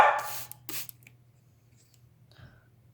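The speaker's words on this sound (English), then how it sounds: "barking because somebody's just arrived" A dog barks once or twice nearby, followed by quiet with a low hum and a faint whine near the end.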